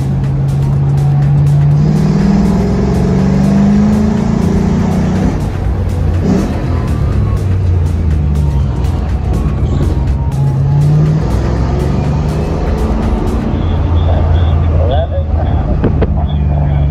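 A race car lapping the Laguna Seca circuit, heard from inside as a loud engine note rising and falling through gear changes, with tire noise and a driver talking over the cockpit roar.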